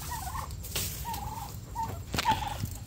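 Several turkey gobbles and warbling calls repeat across the clip over a low steady background rumble, fairly close, with short gaps between calls.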